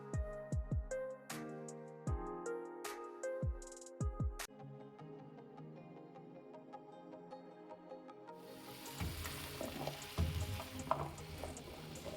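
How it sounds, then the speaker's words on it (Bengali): Diced potato and small cauliflower florets sizzle in hot oil, a steady broadband crackle that fills the last few seconds after a stretch of melodic music with no frying. "এবারে আলু আর ফুলকপি আমি একটু ভেজে নেবো"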